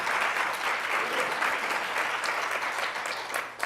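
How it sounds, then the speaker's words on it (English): Applause for a panel at a policy forum plenary session fills the room as continuous, even clapping from a seated audience, sustained at a steady level before tapering slightly at the end. "Let's give our whole panel a round of applause."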